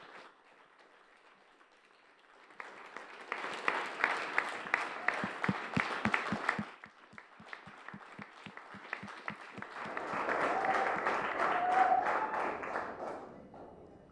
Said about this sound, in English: let's give another round of applause for both of the teams